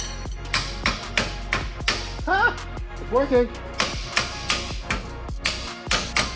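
Hammer blows on a truck leaf spring during a Toyota Tacoma suspension job, a rapid run of sharp metallic strikes about twice per second, loud and close, with a voice talking and exclaiming between hits.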